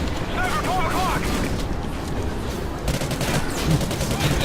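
Dense, continuous automatic gunfire from the Call of Duty: Ghosts final mission fills the scene loudly, heavy bursts overlapping without pause, with brief electronic chirps early on and no clear speech.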